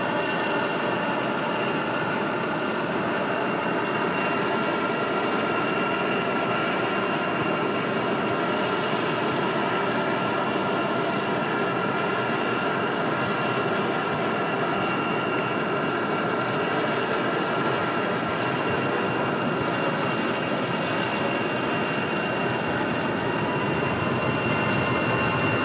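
An Aer Lingus jet departing Raleigh Durham for Dublin gives off a continuous broad roar of jet engines, steady and fairly distant, with no voices over it.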